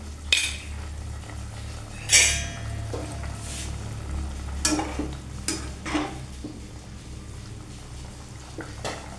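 Mustard paste stirred into a simmering bean and potato curry in a pot: intermittent spoon scrapes and metallic clinks against the pan, a few louder strokes over a soft, steady simmering sizzle.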